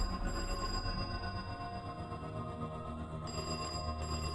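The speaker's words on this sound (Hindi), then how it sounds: "तुषार को फिर से उस टेलीफोन के बजने की आवाज आई।" An old-style telephone bell rings for a horror story, a faint steady electric trill sustained over several seconds against a dark, low background drone.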